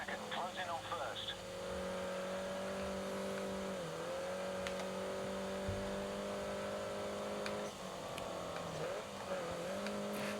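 A race car engine in Grid Autosport drones at high revs, dipping briefly on gear changes or corners before climbing again, with some talk over it.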